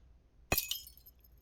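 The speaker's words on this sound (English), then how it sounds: "I'm gonna paste the glass break into it." A single sharp glass break used as a horror game sound effect: one loud shattering crash followed by a brief second burst and tinkling fragments ringing out and fading, with no other sound.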